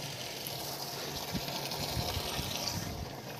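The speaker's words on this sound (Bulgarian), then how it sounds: "Да, ето помпата точи." Water pump drawing water from a well being dug and backfilled with gravel, producing a steady gushing, trickling wash that runs continuously at moderate level with no talk.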